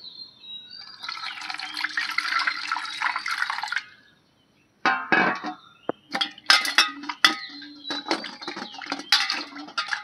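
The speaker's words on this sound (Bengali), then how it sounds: "এখন আমটা আমি ভালো করে ধুয়ে নেব।" A Himsagar mango being washed in water: running water, then sharp drips, splashes and clinks from a bowl or basin, close and intermittent.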